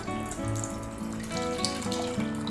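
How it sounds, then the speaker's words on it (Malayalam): Two cups of milk pour steadily into a bowl in a continuous liquid stream, close and fairly loud, during preparation of an apple pudding. "ഇനിയൊരു പാത്രത്തിലേക്ക് നമുക്ക് 2 കപ്പ് പാൽ ഒഴിച്ചു കൊടുക്കണം"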